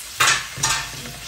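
Onion and tomato sauté in oil for a simple corned beef dish, with a brief close sizzle and two quick stirring swishes over a low hiss.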